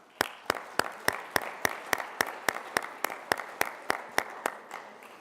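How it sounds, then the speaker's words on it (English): Sparse, evenly spaced claps ring out for the Community Media Center at a business pitch competition, sounding like a single pair of hands or a very small group, each clap sharp and distinct in a steady rhythm for several seconds. "a round of applause for the Community Media Center"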